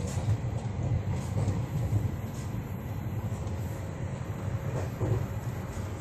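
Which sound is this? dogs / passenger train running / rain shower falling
passenger train running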